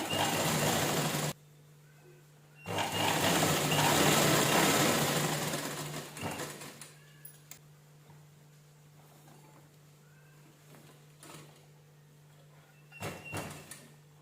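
A sewing machine stitches the square back neck of a blouse backed with canvas, running in two loud bursts of rapid, whirring stitching separated by pauses, followed by quieter handling clicks and fabric movement.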